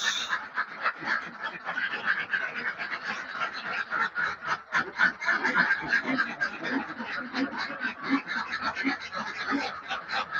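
Laying ducks quack continuously on a duck farm, a dense overlapping chorus from many birds at moderate distance with no voices over them.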